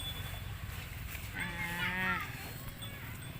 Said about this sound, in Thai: เลี้ยงวัวนะคะ